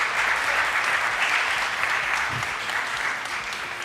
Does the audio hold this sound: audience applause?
yes